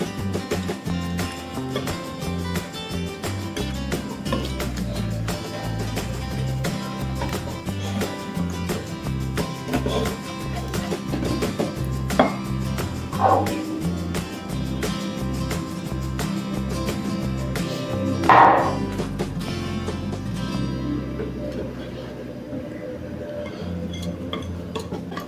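Cinnamon cake batter being mixed in a bowl, with a steady run of light, rhythmic clinks and ticks from the utensil that continues for the whole stretch over a constant background.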